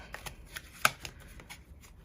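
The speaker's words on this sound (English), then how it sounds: "It's hard to shuffle them without them going flying everywhere, so I have to do it very slowly." A deck of tarot cards being shuffled slowly by hand, giving soft, irregular riffling and sliding taps with one sharper snap, close and quiet with no talking.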